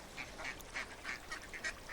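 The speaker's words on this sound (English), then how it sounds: "I'm talking to ducks." Ducks quack and honk in a run of short, evenly spaced calls in the video game Doorways, fairly close and clear, with no talking over them.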